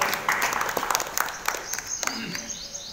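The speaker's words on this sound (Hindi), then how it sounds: "जोरदार तालियों से इसका स्वागत।" Applause greets a Class X topper at a school felicitation ceremony: a crowd claps in a loose, lively patter that tapers off over a few seconds, with some background voices.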